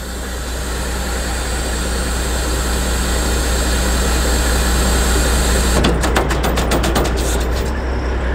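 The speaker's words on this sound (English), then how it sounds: "So we're gonna open up the knife gate." A hydraulic knife gate on a 2007 Aulick belt trailer opens under a loud, steady engine and hydraulic drone, with a rapid rattling clatter near the end, close and continuous.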